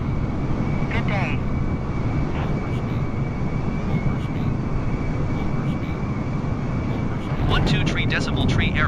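Steady drone of an Airbus A320's engines inside a flight simulator game, a constant broadband rumble running the whole time beneath faint, brief radio-style speech.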